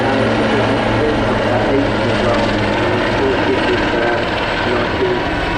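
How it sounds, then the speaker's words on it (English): Two Westland Wildcat helicopters roar continuously overhead at an air show in Southport, a loud, dense rotor and engine drone with steady rhythmic thumping underneath, drowning out everything else. "the two Wildcat helicopters seen now are very, very new"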